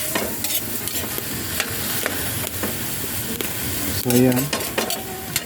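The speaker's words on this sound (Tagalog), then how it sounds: "Yan, haluin na natin." Native chicken stirred and sautéed in a pan for tinola, with steady sizzling and the scrape and clatter of a utensil against the pan, close up, while someone speaks briefly over it.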